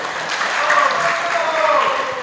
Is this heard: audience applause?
yes